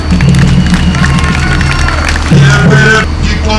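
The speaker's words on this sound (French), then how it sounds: "Veuillez applaudir s'il vous plaît" Clapping and cheering from an audience at a public ceremony in the Democratic Republic of Congo, a steady loud wash of crowd noise throughout with a brief swell near the end.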